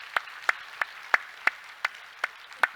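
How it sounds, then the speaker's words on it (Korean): A few people in a church congregation clap slowly in celebration of a wedding ceremony, about eight sharp, evenly spaced claps, close and fairly quiet, with no talking. "다시 한번 우리 박수로 한번 축하합시다"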